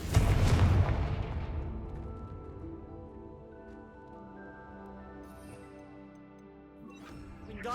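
A Confringo fire spell explodes in Hogwarts Legacy, a loud booming burst up front that quickly fades into a long ringing, shimmering tail, with a fresh crackle rising again at the very end.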